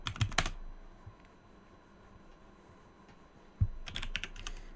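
Keystrokes on a computer keyboard as a password is typed to log into an Ubuntu 22.04 server user account, a quick close burst of taps at the start and another cluster near the end with a quiet pause between.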